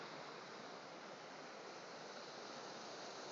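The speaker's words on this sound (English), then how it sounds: "Lovely little waterfall." Small waterfall on a low river beside a stone bridge in the Lake District, a steady unbroken rush of falling water, even and fairly soft throughout with no voices.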